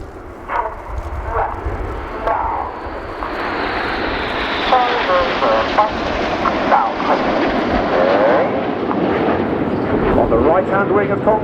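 Red Arrows jets fly past in Concorde formation during an air display at RIAT 2019 as a loud, roaring engine rush that swells and shifts in pitch as they pass, with a commentator's voice over the PA beneath it.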